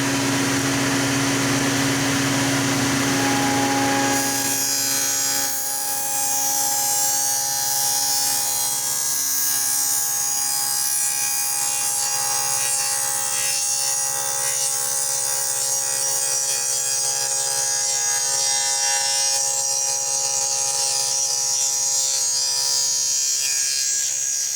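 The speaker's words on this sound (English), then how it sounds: "Dust collector's off so you can hear the cut." Table saw spinning and then cutting a rabbet in plywood with the dust collector off, a loud high whine that drops into a strained, rough cutting roar and holds steady through the pass.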